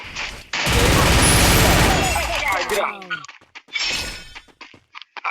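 A loud burst of rapid gunfire in the game Free Fire fills the first few seconds, followed by scattered shots and crashing effects, with voices talking over it.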